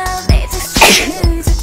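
A woman sneezes once, sharply and close by, during a casual live broadcast. Soft breaths and small movement noises sit around the burst.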